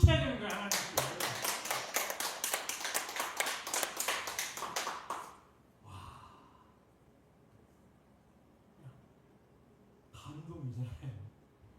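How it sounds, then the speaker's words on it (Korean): Rhythmic hand clapping from a church congregation during a testimony service, with fast loud claps for about five seconds, then a faint gasp or murmur and quiet, and a short burst of voices near the end. "이럴 때는 박수 쳐야 되는 거야 하나님."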